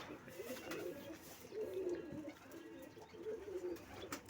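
Pigeons coo in low, throaty bursts, a few rounded phrases in a row, close by over quiet ambient noise.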